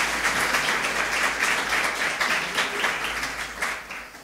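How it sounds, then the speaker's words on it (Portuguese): Church congregation applause at an evangelical Sunday service, a steady wash of many hands clapping that fades slightly toward the end over a low hum. "Dê uma salva de palmas para Jesus, porque Ele merece."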